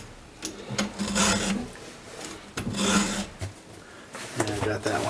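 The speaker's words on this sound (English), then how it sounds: "after seeing the way you're sharpening your chain" Rhythmic rasping strokes of a file sharpening a chainsaw chain, several close, scratchy passes in repeated bursts, with a voice speaking faintly in the background.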